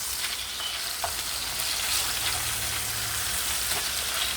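Homemade burger patties frying in a pan, a continuous close sizzle with faint crackles and a soft utensil tap or two, no talking.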